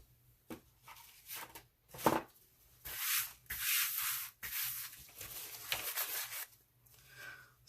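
Scissors trim the edges of a paper tag, giving a run of close crisp snips and rustling paper cuts in short bursts with brief pauses between, quiet and near with no talk over it.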